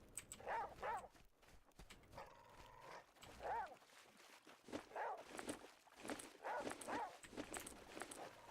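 A boar in The Flame in the Flood game grunting and growling in repeated short rising bursts amid footstep-like thuds, with a voice talking intermittently over the game sounds.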